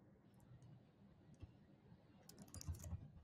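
Quiet typing on a computer keyboard gives a scattered run of light clicks and taps that bunch into a quicker burst near the end, soft and close in an otherwise hushed room.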